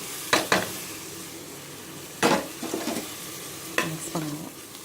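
Spice powders (coriander, turmeric and chili) being stirred into a frying mushroom curry in a pan: three separate bursts of scraping stirring over a steady low sizzle, close and fairly loud.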